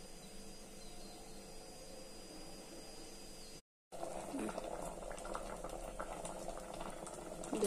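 Pot of dal with tomatoes, green chillies, tamarind and turmeric boiling on the stove for old-style Nellore pappu, a steady low bubbling that cuts out briefly, then resumes slightly louder with irregular pops.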